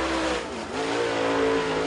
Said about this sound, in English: Here comes car number 52, third fastest, Mark Douglas, last year's winner in round three of the Border Wars.